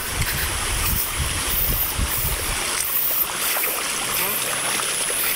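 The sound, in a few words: sudden waterfall of water by the road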